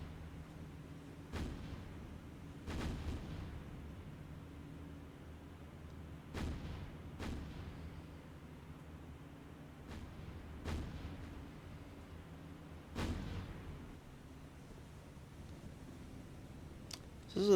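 Naval guns fire from warships in the game War on the Sea. Deep, booming shots sound every couple of seconds at uneven intervals, heavy but somewhat distant, over a low steady background rumble.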